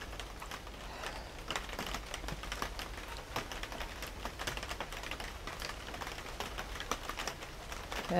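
Rain patters on a roof in a dense stream of close, crisp taps over a low steady rumble, moderately quiet with no talking.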